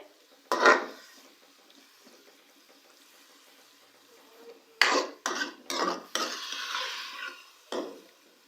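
Minced keema frying in a pan, with a near, quiet sizzle under intermittent scraping and stirring strokes of a utensil against the pan, clustered in short bursts.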